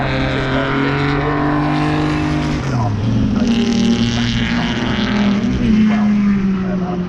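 Historic Grand Prix race cars roar along the start-finish straight at Donington Park during qualifying, loud engine notes rising and falling as the cars pass close by, one after another, over several seconds.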